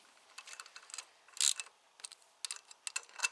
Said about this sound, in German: Jetzt müsst ihr die Hilfsschrauben wieder anziehen